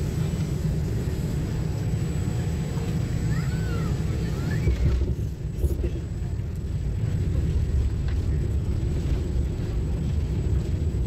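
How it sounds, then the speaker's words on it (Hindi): Heavy, steady low rumble of a passenger airliner just after landing in the UK, a continuous dense roar filling the cabin with no breaks, loud and close throughout. "तो ये प्लेन जो है हमारा लैंड कर गया था।"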